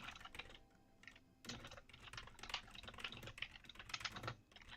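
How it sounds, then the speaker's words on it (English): Fast typing on a loud computer keyboard, close and clattering in bursts, with a brief pause early on and then steady rapid keystrokes. "You probably hear my typing because I have a loud ass keyboard."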